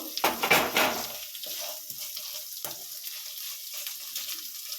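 Chilli chicken sizzles in a pan as it is stirred, a burst of scraping and frying noise at the start that settles into a quieter, intermittent sizzle with occasional clinks.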